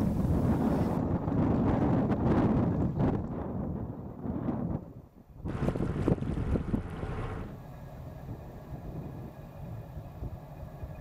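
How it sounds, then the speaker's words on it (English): Strong wind buffets the microphone in heavy rumbling gusts, easing briefly midway before surging again, then settling into a steadier low roar. "by the time I set off it was incredibly windy again"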